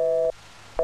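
A telephone busy tone from a call that won't connect: two short steady beeps separated by a brief silence, clear and close with no talking.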